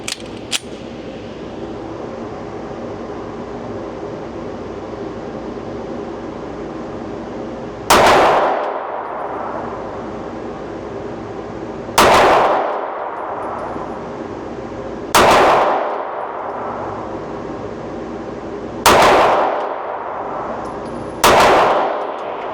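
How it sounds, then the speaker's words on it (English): Five loud pistol shots from a Wilson Combat SFX handgun at an outdoor range, spaced a few seconds apart, each with a sharp crack and a short ringing decay over steady background hiss. "I'm going to take 5 shots on the target on the left with the Wilson Combat"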